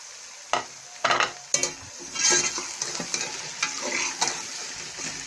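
Round tinda gourds being stirred and sautéed in a pan for masala tinda sabzi, giving soft sizzling with several sharp stirring scrapes and clinks near the start, steady and close.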